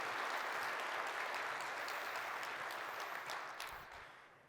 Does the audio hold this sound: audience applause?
yes